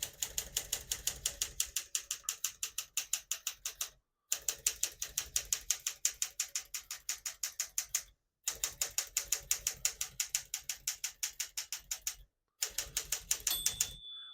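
Rapid, crisp clacks of a 1964 Smith-Corona Sterling portable manual typewriter in steady bursts of about four seconds, separated by brief pauses, up close with a small margin bell ding near the end.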